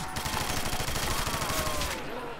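Continuous automatic gunfire rattles through a Custom Zombies map set in a beach town, a steady rapid burst of shots for about two seconds before it cuts off.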